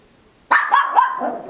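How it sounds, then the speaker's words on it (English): A dog gives a quick run of three or four loud, close barks, sharp and overlapping, with a faint growly tail after the last one, heard on its own. "Dog's barking"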